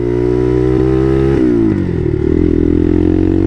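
A Bashan Motomax 250 supermoto motorcycle engine idles loudly up close with a steady rumbling drone, its pitch dipping briefly twice before settling, with nothing else heard over it.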